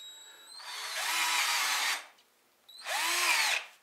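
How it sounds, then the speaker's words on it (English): A power drill bores a pilot hole for a galvanized screw while boat trailer bunks are being fitted. It whines in two close bursts: a longer run, a short pause, then a second shorter run. "I'm going to drill a pilot hole, then I'll put the galvanized screw in it."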